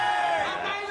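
Loud crowd at a WBC super bantamweight title bout between Toshiaki Nishioka and Genaro Garcia, roaring and cheering in a dense continuous wash of voices, close and steady throughout.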